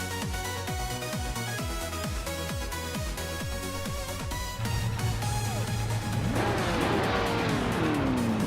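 Race cars roar off the start at the Algarve circuit in a racing video game, including a 1970 Porsche, with rhythmic engine pulses, rising revs, a sustained drone and sliding whines as the pack accelerates, loud and without talk.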